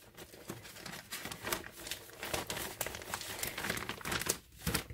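Paper being handled and crinkled at close range, a continuous series of crisp rustles and crackles coming in irregular bursts, fairly quiet with no talk over it.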